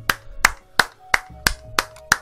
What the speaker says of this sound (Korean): 와, 박수 한번 또 치고 갑니다.